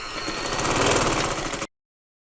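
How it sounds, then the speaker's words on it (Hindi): A sewing machine stitching around a child's frock gives a steady, close motor buzz with a fast rhythmic chatter for about a second and a half, then stops abruptly into silence. "अब मैं पूरे राउंड पर इस तरह से सिलाई लगा लूँगी।"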